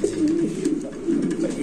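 Pigeons coo in a low, throaty, rolling call, close and continuous, with a male bird at a pigeon market calling steadily throughout.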